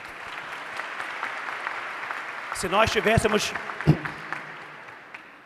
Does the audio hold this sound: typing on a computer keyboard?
no